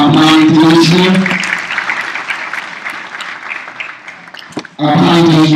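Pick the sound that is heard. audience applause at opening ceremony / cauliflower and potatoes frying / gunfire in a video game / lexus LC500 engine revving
audience applause at opening ceremony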